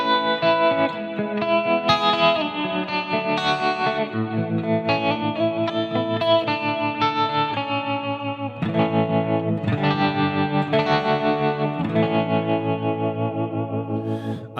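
Clean electric guitar run through a Fractal FM9 with wide stereo delay, chiming chords and notes ringing continuously with echoing repeats, moderately loud and alone.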